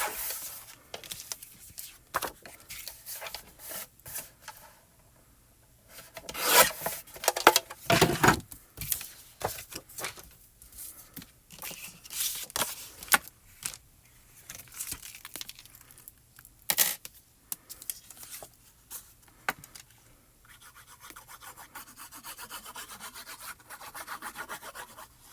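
Rubber stamp mount material is cut down by hand in irregular rasping, scraping strokes, loud in bursts with quiet gaps, close-up and without talk.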